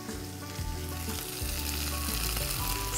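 Oriental-style cabbage rolls stuffed with ground beef fry in a pan with a dense, steady sizzle that swells slightly toward the end, with faint tonal sounds beneath and no voices.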